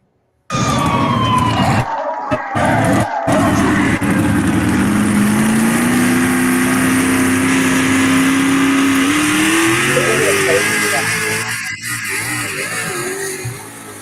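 A monster truck engine at a truck and tractor pulling event, loud and sustained for most of the clip, with a rising revving tone in the middle and steady roar throughout, no speech.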